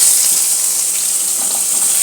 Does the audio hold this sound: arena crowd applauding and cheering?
no